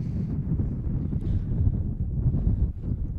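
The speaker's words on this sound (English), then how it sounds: "It's getting very windy out here tonight, very cold." Low, buffeting wind rumbles against the microphone in uneven gusts on a cold night at a boys' high school soccer game, fairly steady with no voices.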